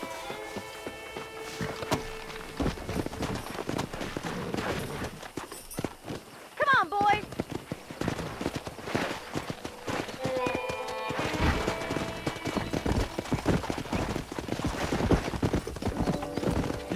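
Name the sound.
wild horses galloping, from Red Dead Redemption video game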